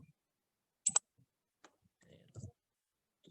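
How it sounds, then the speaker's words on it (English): Sharp mouse clicks, a quick double click near the start and softer scattered clicks after it, in a quiet room during a Revit session. "left click to place."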